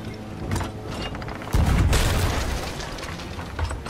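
Ship cannons firing during a pirate naval battle in Sea of Thieves: a heavy boom lands midway, followed by rumbling and mechanical clatter amid ongoing background noise.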